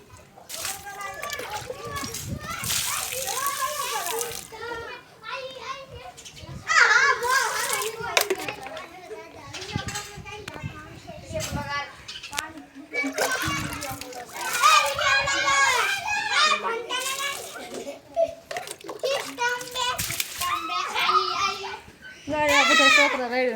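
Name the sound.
children playing and splashing water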